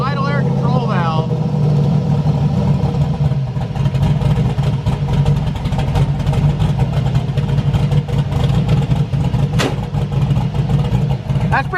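A turbo LS-swapped Mustang running Holley EFI with no idle air control valve idles steadily and loudly close by, its rough throb continuing throughout while people talk over it.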